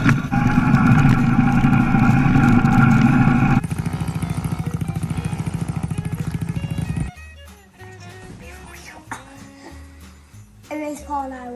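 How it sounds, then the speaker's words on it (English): Dirt bike engines rev loudly and idle with a rapid throbbing putter, then drop away into quieter clatter, while voices talk nearby. "Dirtbikes and race Paul"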